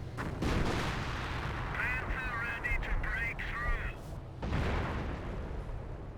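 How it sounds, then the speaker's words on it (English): Mortar barrages pound the battlefield in the strategy game Company of Heroes, where British and German forces clash. Heavy blasts and rumbling fire roll on continuously, with a brief voice-like tonal call in the middle of the barrage. "Got just mortar barrages there, perhaps from the AI."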